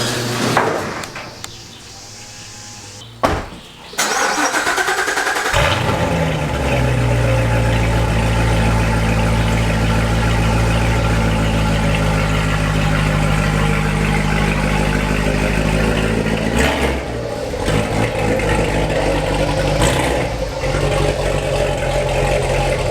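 A Corvette engine cranks after a few knocks and clunks, catches, and settles into a loud, steady, close idle that holds for nearly twenty seconds, with a brief dip near the end.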